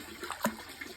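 Stream water flows at the foot of a mountain near Real, Quezon, a soft, steady rush with one brief splash in the middle, with no voices.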